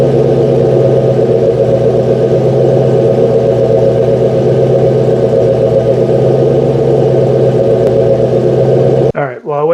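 A 1964 car engine idles steadily through a heat cycle, a loud, even, close rumble that runs unbroken before cutting off abruptly near the end.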